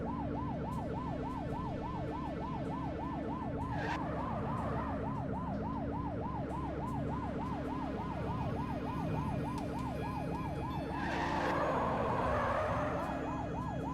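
Police car siren wailing in steady rapid cycles in the 1980s police video game The Precinct, a unit responding code 3, loud and continuous over engine rumble, with a brief burst of noise near the end.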